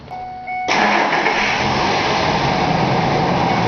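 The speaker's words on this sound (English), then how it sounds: "we're going to hit for the starter" A car engine cranks on the starter during a battery test and catches, a sudden loud burst rising to a steady rough idle up close, preceded by a faint tonal hum.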